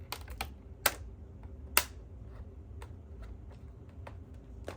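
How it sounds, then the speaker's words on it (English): Typing on a Lexmark buckling sleeve keyboard from an old computer, a sparse run of light clicks and taps with a few sharper, louder key strikes, close and alone. "It has a Lexmark buckling sleeve keyboard."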